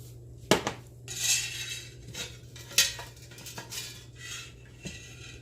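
A metal spoon clinks and scrapes against a glass jar while oil is added to garlic for garlic confit, with several sharp knocks and softer rattles close by and no talking.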